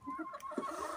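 A hen clucks a few times in short, close calls over a low background hum, with no voices.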